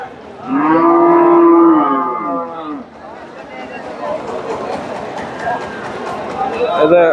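Large Friesian dairy cow at a livestock market in Bogura, Bangladesh, lowing in one long, loud moo close by, followed by crowd chatter and market bustle.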